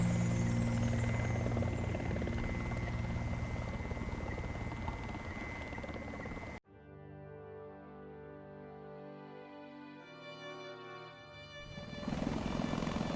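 An AH-64 Apache Longbow attack helicopter in War Thunder gives a loud, steady rotor and engine drone for several seconds, then cuts abruptly to a quieter, shifting tone before the roar swells back at the end.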